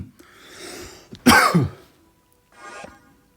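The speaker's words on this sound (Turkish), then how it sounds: "ben de var ya 60 yaşındaki adamlar gibi öksürmeye başladım." A man coughs hoarsely, a brief throat-clearing rasp followed by one loud, harsh cough and a softer trailing cough, close and alone.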